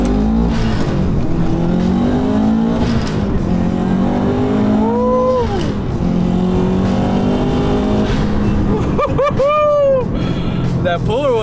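Subaru STI with a Hawk Eye engine revs hard during a pull, the engine note rising and falling in sweeps, loud and continuous, with a voice talking over it.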